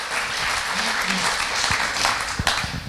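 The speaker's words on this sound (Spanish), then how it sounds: "Denle un aplauso." Church congregation applauding in praise, a steady wash of clapping throughout with a few voices rising briefly over it.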